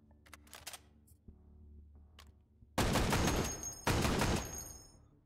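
Heavy gunfire from a big weapon in the VR game Hot Dogs, Horseshoes and Hand Grenades 2, two loud booming blasts about a second apart with ringing tails, preceded by quieter handling clicks.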